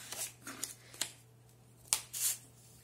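Scissors snipping through cardstock for a mini album cover, several crisp close cuts spaced irregularly over a faint steady hum, no speech.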